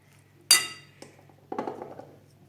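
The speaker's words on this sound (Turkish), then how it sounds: "şöyle sarımsak sosu ekliyorum ben. Çünkü yakıştırıyorum bu maş fasulyeye. Şöyle bir karıştırıyorum tekrar." A spoon stirs mung bean salad with garlic sauce in a bowl: one bright clink against the bowl, then softer taps and scraping clinks, close and without talk.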